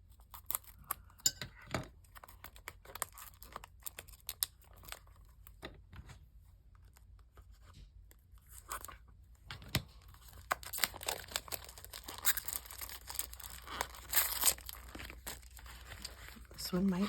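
Plastic product packaging crinkles and rustles while being cut and unwrapped with scissors, giving scattered sharp snips, crackles and light clinks, fairly faint and close, with a person talking in between.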